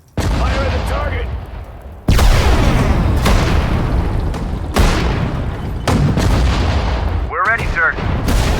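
Heavy artillery fire in the WWII strategy game Sudden Strike 4, Hurtgen Forest battle: a barrage of loud booming cannon blasts and explosions repeating every second or so, with a brief voiced radio-style command near the end.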